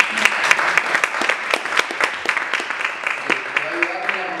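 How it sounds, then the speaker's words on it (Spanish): Audience applause for Carolina at the launch of an animal-rights parliamentary caucus, a burst of many hands clapping with sharp individual claps standing out, mixed with scattered voices and talk throughout. "un aplauso para Carolina"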